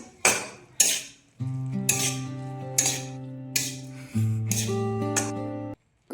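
A metal utensil stirs soy sauce into fried vegetables in a pan, giving a series of sharp, regular clanks and scrapes over steady background music.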